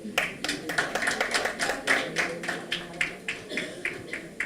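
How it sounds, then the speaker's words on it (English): An audience claps at a nursing students' quiz event, a steady run of quick, sharp claps from a few people, fairly close, with faint voices underneath. "you can clap."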